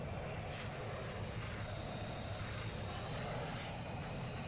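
Modded jank aircraft engine in VTOL VR, a steady, fairly faint drone of the engine running up for takeoff, even and continuous without pauses.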